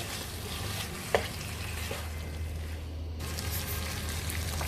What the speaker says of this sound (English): So we mix all of this, and also everything is well combined.